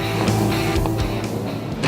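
A steady engine rumble with low droning tones and occasional revs, cars idling close by with no talking.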